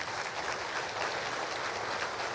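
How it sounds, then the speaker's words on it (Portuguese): A church congregation gives a round of applause during a sermon: a continuous, fairly quiet wash of many hands clapping with no talking. "Então dê uma salva de palmas para isso."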